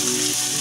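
Beans and slit green chillies fry in a pan in a brief, close, steady sizzle with a faint scrape of stirring and no voices.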